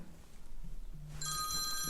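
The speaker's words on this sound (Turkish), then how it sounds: "Neyse telefon çaldı." A telephone rings from about 1.2 seconds onward, a steady electronic ring over quiet room noise, heard alone with no talk.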